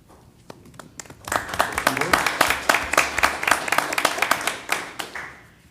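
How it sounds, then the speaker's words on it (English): Audience applause in a city council chamber swells after a quieter opening into sharp, distinct claps, steady and fairly close, tapering off near the end. "First, let me thank everyone for applauding"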